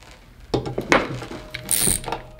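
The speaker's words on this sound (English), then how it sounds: "The Southwire ratcheting feels nicer." A Southwire ratcheting screwdriver clicks in short bursts of close, crisp mechanical ratchet ticks. The irregular turns are loud and sit alone, with no talk over them.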